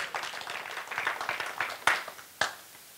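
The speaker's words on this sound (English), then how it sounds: "Bang your hands together." A church congregation claps hands: scattered, fairly quiet claps build into a brief patter, followed by two louder, separate claps near the end.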